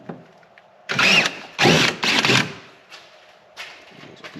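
Power drill boring a 5/16 inch hole for a rear fender insert on a 2022 Polaris RZR Pro XP, three loud close bursts of whirring with short pauses between and quieter trailing spins.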